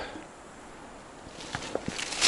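Quiet outdoor ambience gives way to a few crunchy footsteps on frozen ground, sharp uneven crackles growing closer and louder toward the end.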